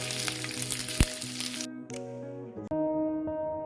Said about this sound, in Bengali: দিয়ে দিচ্ছি লম্বা করে কাটা কাঁচা লঙ্কা, আর দিতে হবে কিছুটা কারি পাতা। এগুলোকে একটু ফ্রাই করে নিতে হবে।